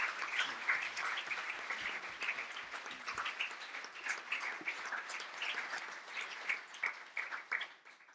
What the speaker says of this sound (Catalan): fem un aplaudiment als tres professors